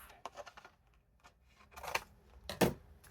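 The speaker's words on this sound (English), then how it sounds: "Okay, and I do need scissors." Quiet snipping of scissors through paper, a few soft cuts with a sharper final snip, faint and close.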